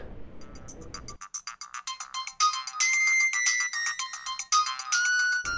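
A mobile phone ringtone signals an incoming call, a bright electronic melody of repeated tonal phrases sounding clearly and alone for several seconds after a brief burst of background noise.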